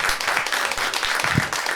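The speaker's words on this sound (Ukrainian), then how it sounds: "можна ще оплесків!" A stand-up comedy audience claps, a dense continuous patter of applause filling the room with a few low thumps underneath.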